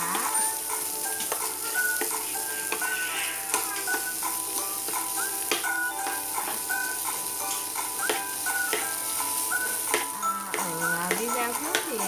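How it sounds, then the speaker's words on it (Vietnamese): Salmon being stir-fried in a pan, a steady close sizzle of frying with the scrape and clink of stirring running throughout. "Mình xào cá."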